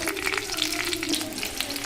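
Mustard seeds, cumin, bay leaf and green chilies sizzle and crackle steadily in hot oil, a close, continuous frying hiss with scattered small pops and no talking.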